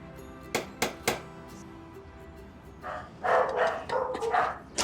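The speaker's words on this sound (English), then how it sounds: "The dogs are going at it." Dogs bark at a house: three sharp barks ring out at first, then a louder, rapid flurry of barking follows. No one speaks.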